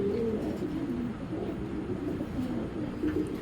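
Low, steady cooing from a pair of sibling racing pigeons kept in a loft, a continuous murmuring coo with soft bird calls layered over it, fairly close, and no voices.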